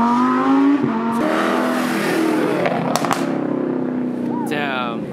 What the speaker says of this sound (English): And just cars like taking off.